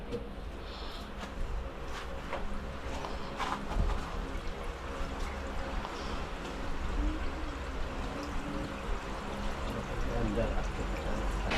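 Water pours steadily into a pressure tank during a full setup, a continuous broadband rush and trickle running the whole time, fairly close, with someone talking intermittently over it.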